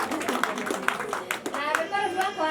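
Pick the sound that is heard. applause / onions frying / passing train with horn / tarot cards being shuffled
applause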